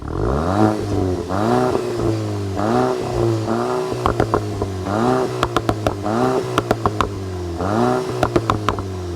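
A 2026 Volkswagen Golf S hatchback engine revs repeatedly in short bursts through dual exhaust tips, each climb followed by a drop, with sharp crackling pops from the exhaust between several of the revs.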